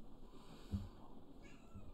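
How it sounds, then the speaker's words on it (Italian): A domestic cat meows once, short and faint, near the mic against a low room hum, with stormy weather outside; otherwise quiet. "Ed ecco il mio gatto che ovviamente come accendo la live viene sotto e mi augura"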